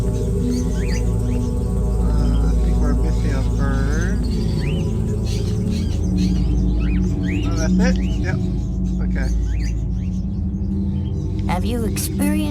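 Birds chirp in Indigo Prophecy, bursts of high tweeting and rising calls over a droning low ambience, close by and recurring irregularly, with some talking mixed in.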